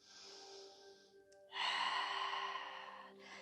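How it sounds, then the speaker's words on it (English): Long forceful open-mouthed exhales of lion's breath during a yoga breathing exercise, a softer breath first, then a loud sustained breathy whoosh lasting over a second, tailing off into another brief push of air. "So when we're opening our mouth, we're doing a lion's breath."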